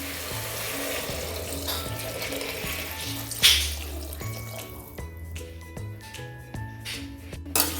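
Water pours into a cauliflower and potato curry in a pressure cooker pot, a continuous splashing flow under background music.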